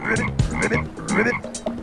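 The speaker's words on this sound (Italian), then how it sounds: "Una rana!" A cartoon frog croaks in a quick series of loud, close, bubbly calls, several bursts in a row with no speech.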